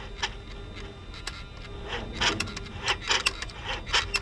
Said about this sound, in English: Let's open the throttles. I can hear both activate.